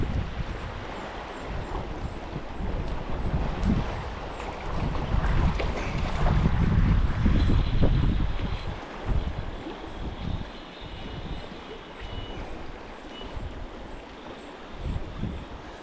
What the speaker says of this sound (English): Pretty windy today as well, but it's a downstream wind, which is good.